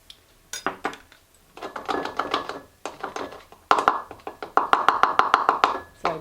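Arrowroot powder is stirred into a homemade natural cleaner in a container, giving quick scraping and tapping strokes, sparse at first and then a faster rhythmic run of clinks, close up and with no talking.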